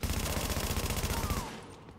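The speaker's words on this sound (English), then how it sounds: "somebody shot somebody" Rapid automatic gunfire in The Division video game, a loud sustained burst of overlapping shots with a whizzing tone near the end, cutting off sharply into quieter background at about one and a half seconds.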